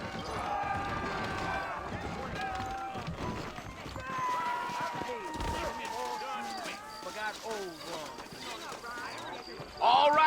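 Rhythmic clip-clop of horse hooves over game music and ambient sound in Red Dead Redemption, with a louder burst near the end.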